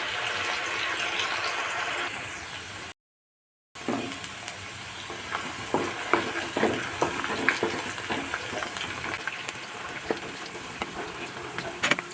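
Crispy chips frying in hot oil make a continuous bubbling sizzle close by, broken by a brief dropout, then crackling spatters and scraping stirs that build over the remainder, with no talking.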